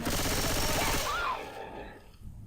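Dense, loud rapid automatic gunfire from the zombie shooter game Left 4 Dead 2, a continuous burst of shots for about a second that then trails off into fading reverberation.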